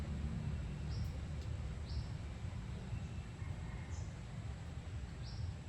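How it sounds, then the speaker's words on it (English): Faint, short bird chirps recur about once a second, distant and thin above a steady, low, hissing background. "The bird sound doesn't have to be bad"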